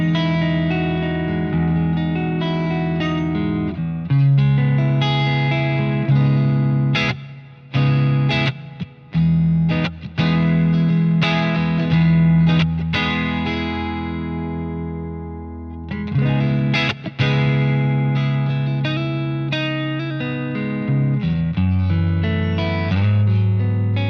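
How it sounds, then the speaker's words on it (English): Electric guitar played through Bassman and 5150 amp models into a bunch of cabinets, sustained distorted chords and notes with an added studio reverb tail, loud and continuous with brief pauses between phrases. "let's add a little bit of studio reverb. Let's make it a little bigger"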